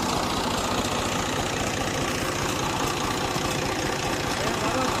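A tractor engine runs steadily while ploughing in a cotton field, a loud continuous low chugging drone with a regular knocking pulse that holds even throughout.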